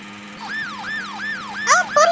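A police car siren in a prison escape video game wails in repeated rising and falling sweeps, loud and close, with sharper electronic blips near the end.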